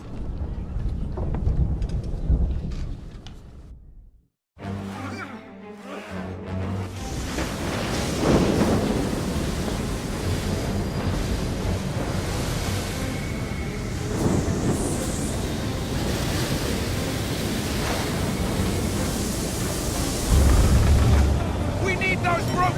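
In Assassin's Creed 3 a thunderstorm at sea brings a constant roar of wind and crashing waves, with a brief drop to near silence early on and then a steady rumbling wash that swells again toward the end.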